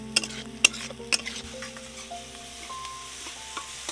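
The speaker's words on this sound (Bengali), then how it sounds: "হালকা জালে এটাকে ভালো করে মশলাটাকে পাক করে নিতে হবে সব সময়" Spice paste being stirred and fried in a pan over a low flame for a bottle gourd (lauki) bharta: scraping spoon strokes with a few sharp clinks early on over a soft, steady sizzle, close and without speech.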